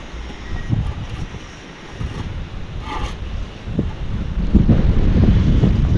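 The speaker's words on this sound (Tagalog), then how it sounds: "Tapos talaga ng hangin" Strong outdoor wind buffets the microphone at a site being levelled for parking, a continuous low rumbling roar with gusts that swell and fade, loudest near the end.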